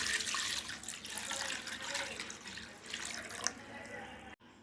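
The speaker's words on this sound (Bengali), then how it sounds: "এবার দিয়ে দিচ্ছি পানি" Water streams steadily and softly into a cooking pot fitted with a stand, ready for steaming sago caramel pudding. The gentle, continuous pour runs for several seconds, then ends with a brief clunk.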